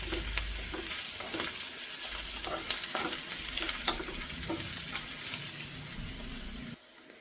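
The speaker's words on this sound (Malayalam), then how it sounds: "ഇഞ്ചി, വെളുത്തുള്ളി, കറിവേപ്പില ഒക്കെ ചേർത്ത് കൊടുക്കുകയാണ്. ഇനി ഇത് നല്ലതുപോലെ ഇത് മൂപ്പിച്ചെടുക്കണം" Ginger, garlic, curry leaves and onion frying in a pan for beef pothi porotta, a steady close sizzle with repeated scraping stirs throughout, cutting off abruptly at the end.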